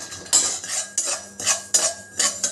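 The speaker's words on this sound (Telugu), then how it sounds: "ఇప్పుడు నువ్వులు కూడా ఒకసారి ఫ్రై చేసుకుందాం" Sesame seeds are dry-roasted in a pan, stirred with a metal spoon in short rhythmic strokes, giving about seven scraping, rustling bursts close up with no talk.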